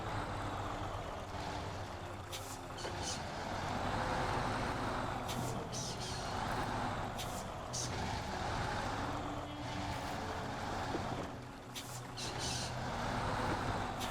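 Engine drone of the Sri Lankan UniCOLT military truck crawling off-road in SnowRunner, steady and close with a few short hissing bursts like air brakes, loud throughout.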